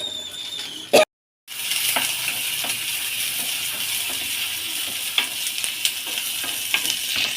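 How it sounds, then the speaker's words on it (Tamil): Chopped onion hits hot oil already crackling with mustard seeds and cumin, giving a steady close-up sizzle with scattered pops and light stirring clicks after a brief silent gap near the start; no one speaks. "சீரகம், கடுகு போட்டு வெங்காயம் போட்டுக்கலாம்."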